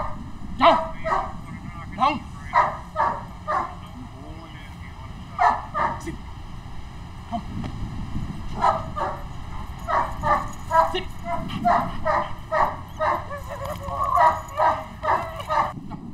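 A trained dog barks in repeated sharp bursts, close and loud, with short yips and whimpers between volleys and no talk.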